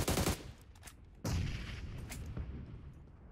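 Grenade blasts in the mobile battle royale game PUBG Mobile: a loud burst at the start, then a second heavy boom after about a second that rumbles and decays, with a few fainter bangs trailing off.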